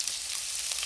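One medium chopped onion fries in a pan for a noodle soup with fideo, giving a soft, steady crackling sizzle up close with no voices over it.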